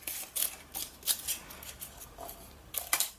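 Scissors snip around a paper card sentiment for a handmade greeting card in a quick run of soft, close, crisp cuts.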